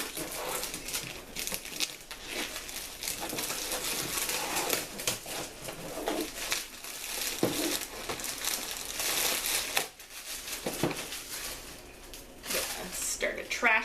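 Plastic packaging on a Capsule Chix Shimmer Surge toy capsule torn open by hand, a steady run of crinkling and rustling that swells and fades across the whole stretch with brief louder rips.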